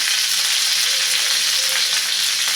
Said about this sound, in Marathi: त्यानंतर आपल्याला ही जी आपण पानकोबी चिरून घेतलेली आहे ती घालायची आहे